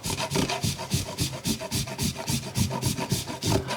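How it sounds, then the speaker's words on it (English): Chocolate grated on a Microplane zester in long, even strokes, a rhythmic rasping scrape repeating about three times per second, close and fairly loud with no talk. "So I'm trying to use long strokes again, and this is for really fine grated chocolate."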